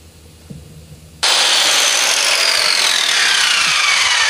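A power saw bites into a wooden jet boat deck, kicking in abruptly after a quiet moment and then grinding steadily and loudly, close up with no voices.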